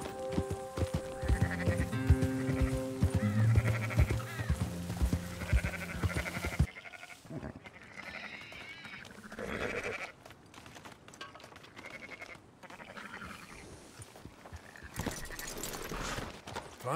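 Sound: sheep bleating in a video game

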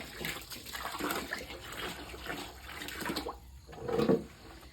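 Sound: container being filled with water

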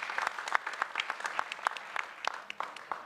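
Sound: audience applause

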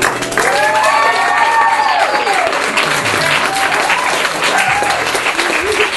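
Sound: audience applause and cheering at a wedding party

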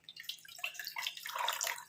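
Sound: washing with water

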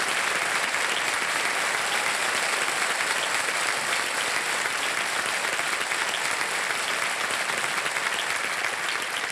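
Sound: studio audience applause welcoming a guest

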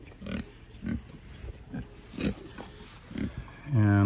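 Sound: pigs oinking on a farm

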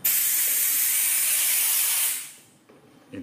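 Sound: steam cleaner cleaning tile grout

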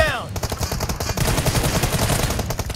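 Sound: gunfire from M416 rifle in PUBG Mobile video game

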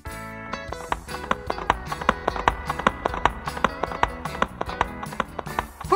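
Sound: horse hooves clip-clopping

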